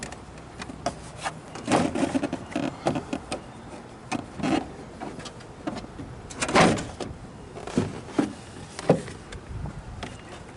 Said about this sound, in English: you just grab this door and pull up